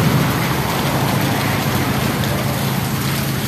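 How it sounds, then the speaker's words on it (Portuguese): Rain falling in the rural zone of Morada Nova, Ceará, under cloudy skies, a loud, steady broadband hiss of drops on surfaces, close and continuous, with no voices. "Já começou a chover e tá vindo um tempozinho ali, viu?"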